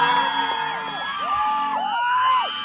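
A crowd at Comic Con Abu Dhabi whoops and cheers for a dancer, a loud, sustained burst of shouts and high yells that swells again near the end.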